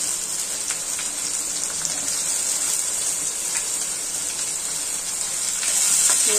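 Onions and tomato fry in an oil-filled pan with bay leaf, a loud, close and continuous hiss of sizzling that holds steady and swells slightly near the end, with faint stirring scrapes underneath.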